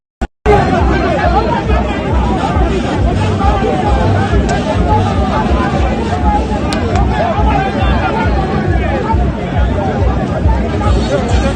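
A crowd of people mobbing a politician at an APC endorsement event in Gombe State, a loud, dense, continuous babble of many voices shouting and chattering close by throughout.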